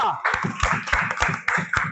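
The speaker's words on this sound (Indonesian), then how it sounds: "boleh tepuk tangan untuk kelompok 2" A class claps for a group of students after their presentation, crisp claps falling in a quick, steady rhythm roughly three to four per second, with voices mixed in.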